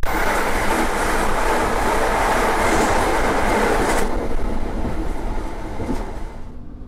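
Tegal Bahari passenger train running on rails near Bekasi, a loud, close, continuous rumble with rushing wind and wheel clatter that eases slightly after a few seconds, then fades at the end.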